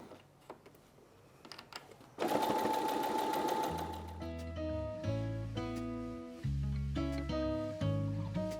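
A sewing machine stitches zipper pouch linings, starting with a steady rapid whir that runs on continuously, with the motor pitch shifting as the speed changes. No one speaks.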